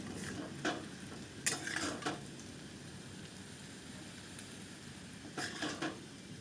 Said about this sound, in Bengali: আবারও ভালো করে নেড়ে চেড়ে নেব